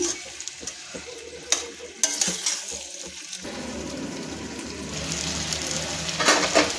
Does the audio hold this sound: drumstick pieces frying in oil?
yes